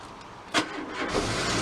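An old Honda Civic that has sat unused for about two years cranks and fires, a sharp catch followed by the engine settling into a rough running rumble, close by with no talking.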